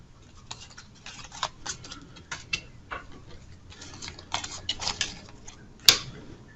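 Agenda cards for the Twilight Inscription board game are shuffled close up, with a series of soft papery riffles and flicks ending in one sharp snap of the deck.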